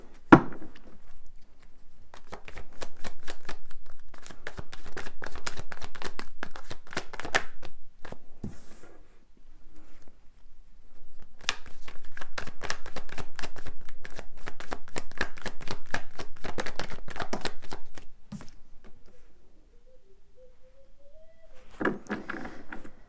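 Tarot cards are shuffled in long, steady riffling runs broken by short pauses, crisp and close, with a couple of soft taps between runs and no talking.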